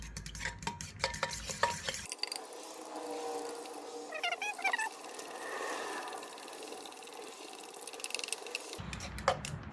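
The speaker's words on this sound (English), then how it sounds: "Now it says whisk, so I'm going to use Grandma's whisk." Grandma's whisk stirring cornbread batter in a bowl for a Lodge cast-iron cornbread recipe, a steady close scraping swish running about seven seconds between louder clattering handling at the start and end.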